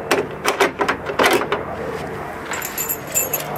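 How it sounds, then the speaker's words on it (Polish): A door lock being fitted into place during a home security repair: a few close, sharp metallic clicks and clatters of the lock body knocking into position, followed by quieter faint rattling. "Teraz wkładam zamek."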